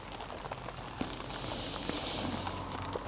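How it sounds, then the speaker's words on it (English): Steady patter of rain striking a tent overhead, a soft continuous hiss with occasional louder drops, no voices. "Just that rain hitting the tent."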